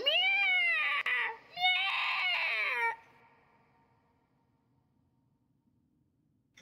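A cat meows loudly and close, two drawn-out wailing cries in a row, then quiet with only faint background hiss.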